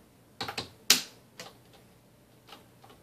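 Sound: fingers typing hard on a computer keyboard

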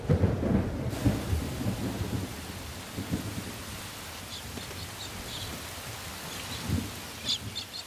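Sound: heavy rain and thunder

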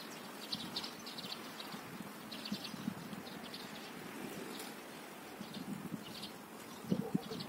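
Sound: sparrows bathing and chirping

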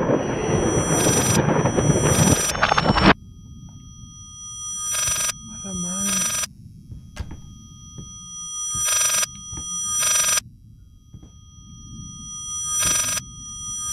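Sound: telephone ringing in a video game

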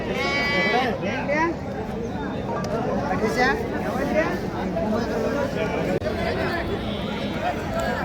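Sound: sheep and lambs bleating at livestock market

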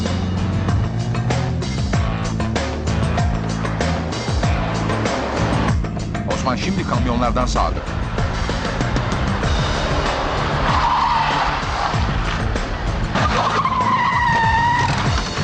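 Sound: car accelerating hard in a chase

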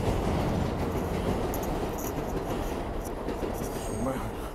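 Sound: train passing

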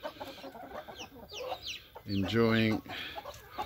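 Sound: Cornish cross chickens clucking

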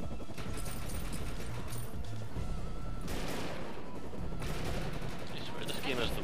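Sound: gunfire from the video game Defiance

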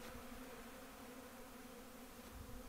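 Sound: bees flying around feeders

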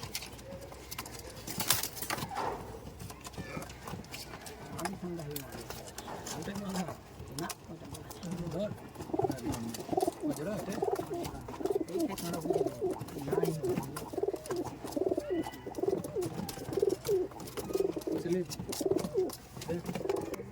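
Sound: Saki teddy pigeons cooing

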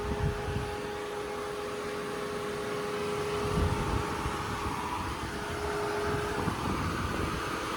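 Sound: Nissan Ariya electric car heat pump and air conditioner running

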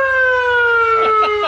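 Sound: siren on a PA system in a Polaris RZR Pro XP

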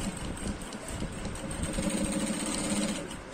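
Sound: sewing machine stitching agbada fabric

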